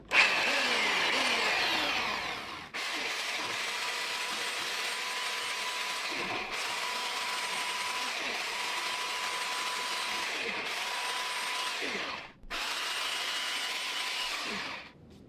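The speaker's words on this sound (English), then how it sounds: "So, I'm problem solving with a belt sander, as one does." A belt sander grinding 3D-printed blaster parts runs loudly and continuously with a steady whirring grind, stopping briefly a few times before starting up again.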